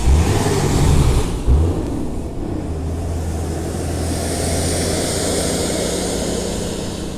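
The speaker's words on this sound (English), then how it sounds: "There's a dump truck coming." A dump truck drives past outdoors, its heavy engine a loud, close, continuous rumbling drone that swells and then settles into a steady roar.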